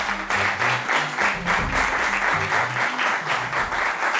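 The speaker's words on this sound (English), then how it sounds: "Please, round of applause, please." Audience applause at a school quiz competition between basic schools, a steady dense clapping that fills the room continuously from start to finish at close range, with faint voices mixed underneath.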